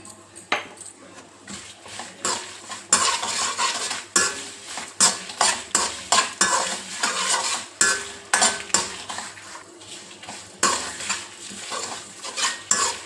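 Garlic cloves and sesame seeds frying in oil in a pan for mint chutney, with a spoon repeatedly scraping and stirring in quick rhythmic strokes over a constant sizzle, close and fairly loud.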